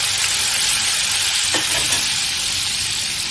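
Food sautés in a pan with red chili flakes and lemon juice, giving a steady close sizzle and hiss with a brief stirring scrape partway through.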